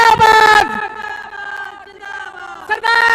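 Loud crowd of many voices shouting the Punjabi slogan "Simranjit Singh Mann Zindabad" in unison at an outdoor Khalsa Sajna Diwas political gathering in Talwandi Sabo, the chant rising in sharp bursts at the start and end with a sustained voiced swell between.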